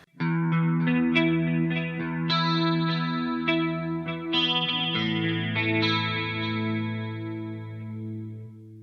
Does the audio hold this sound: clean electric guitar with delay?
yes